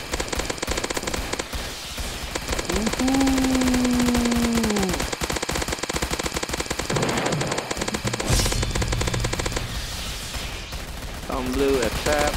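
A gatling laser in a Roblox zombie game fires in rapid continuous bursts, a dense rattling barrage with whooshing and electronic tones, while a voice talks over it at times.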